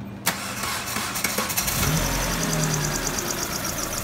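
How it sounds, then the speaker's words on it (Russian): A 2-litre G4GC engine in a 2004 Hyundai Elantra cranks and fires with a sharp onset, then settles into a steady, close-up running drone with a faint high whine, no talking. "Запуск двигателя."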